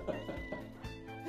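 A pet house cat gives a few short, quiet meows indoors, close to the mic, with low murmuring sounds between calls.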